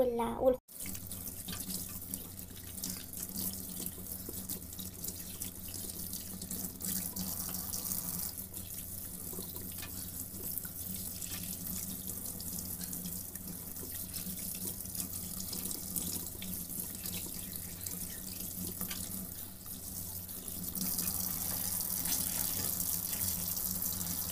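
A kitchen tap runs in a steady, continuous stream into a sink while tripe is rinsed under it, with a faint rise in the water's rush toward the end.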